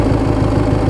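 A Briggs & Stratton opposed-twin engine on a Craftsman riding mower idles steadily up close, a continuous low, even rumble with a faint vibrating buzz and no voices.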